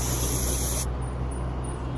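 An aerosol spray gives one short, loud, steady hiss that cuts off abruptly, leaving a quieter background hum.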